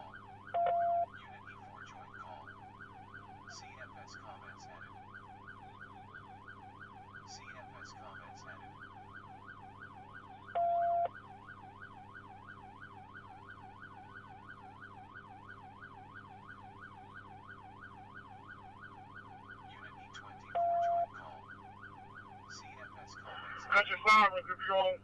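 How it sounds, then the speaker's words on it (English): A wailing Arkansas State Police siren sweeps steadily up and down at a distance, with brief radio beeps every few seconds and a louder burst at the end. "Cut your sirens if you're on 6-8."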